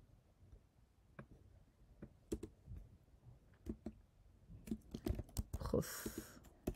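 Typing on a computer keyboard, close and fairly quiet, with irregular clusters of crisp key clicks and taps that grow busier and denser toward the end.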